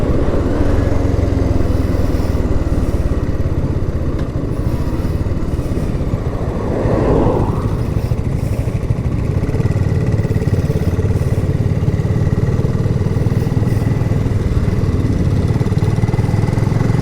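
A BSA Gold Star motorcycle engine runs steadily and loud throughout at about 50, its pitch swelling briefly midway as it revs to about 5,500 rpm, with wind-like rumble underneath.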